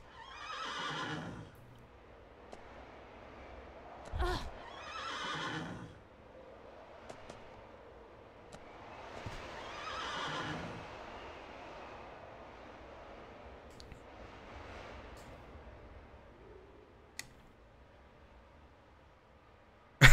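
A horse whinnies in several separate bursts in a Tomb Raider level game, mid-loud and slightly processed, with quiet gaps and a sharp thump between calls.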